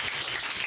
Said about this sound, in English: I'll give him a round of applause right now